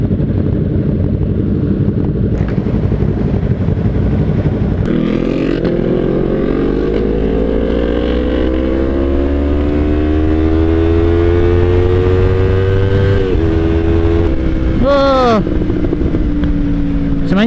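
A motorcycle ridden at night through city traffic in Kuala Lumpur rumbles steadily close by, its engine note climbing through a long acceleration and dropping abruptly, with people talking over it.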